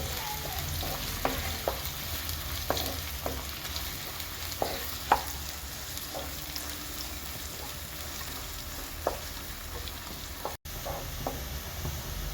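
Ten small chopped shallots sautéing in a pan for chicken thoran, a faint steady sizzle with occasional light clicks of stirring, no voices.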